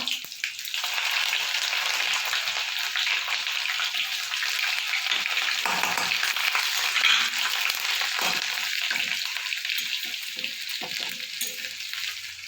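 Ginger sizzles and fries steadily in hot oil in a pan, a loud, close, continuous crackle with occasional stirring.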